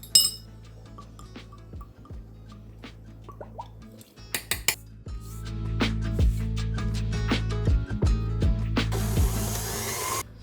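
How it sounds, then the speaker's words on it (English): Egg and vanilla extract being mixed into gluten-free cookie dough, with clinks and scrapes of utensils against a bowl, then a steady mechanical whir of a mixer running with sharp clanks over it, close and fairly loud. "Mix well."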